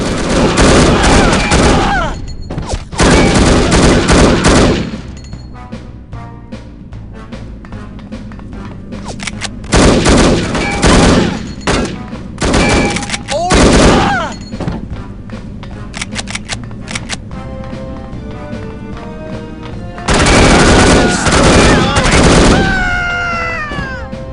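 Gunfire in the video game No One Lives Forever, loud bursts of rapid shots in several long volleys separated by quieter stretches of game sound, no speech.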